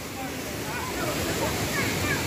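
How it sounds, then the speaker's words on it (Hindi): A small waterfall on the Kedarnath trek from Gaurikund gives a steady, broadband rush of falling water, continuous and fairly close, with no voices over it. "छोटा सा प्यारा सा झरना"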